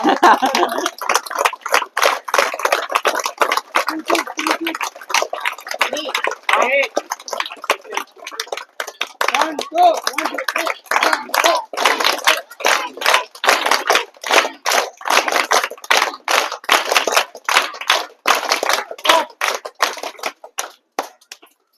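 A group of children applauds the craft workers at Etikoppaka: brisk, sustained clapping of many hands that runs loud and steady throughout, with voices mixed in.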